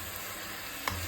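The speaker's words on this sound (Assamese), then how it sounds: "লস্কৰাৰ কাৰণে নাৰিকল ভাজি আছোঁ" Grated coconut fries in a pan for laskara, a soft steady sizzle close by with a brief stirring scrape near the end.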